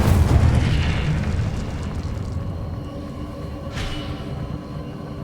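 An Incendio fire spell cast in Hogwarts Legacy erupts with a loud roaring burst that fades into a lingering rumble, followed by a brief whoosh a few seconds later.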